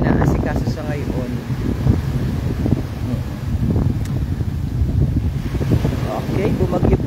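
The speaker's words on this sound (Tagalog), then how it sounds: "Malakas ang hangin pa rin." Strong wind after a storm buffets the microphone in steady gusts while people talk close by.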